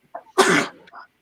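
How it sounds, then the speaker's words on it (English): A single sharp, close human sneeze, a short breathy intake followed by an explosive burst, with a small throat sound after and otherwise silence. "That's why I sneezed it out."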